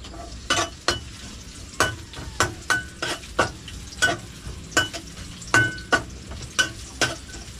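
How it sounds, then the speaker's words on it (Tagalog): Ginger and garlic sautéing in a pan for ginataang papaya: a low, steady sizzle broken by a regular series of sharp clacks as a utensil strikes and scrapes the pan, close by with no talk. "Igisa lang po natin yung luya. Bawang."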